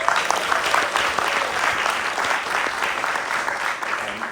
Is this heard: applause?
yes